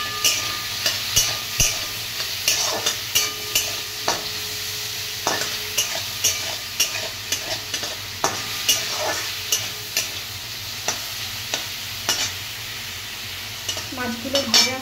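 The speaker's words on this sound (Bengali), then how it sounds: "মাছগুলো ভাজা হোক" Prawns seasoned with salt and turmeric sizzle in a hot pan, a steady close frying hiss broken by repeated scraping stirs at a regular rhythm, with no talking.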